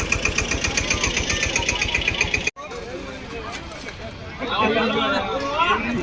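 A tractor engine chugs with a steady low knocking rhythm at a large communal food-serving event, then gives way to crowd chatter and nearby voices talking.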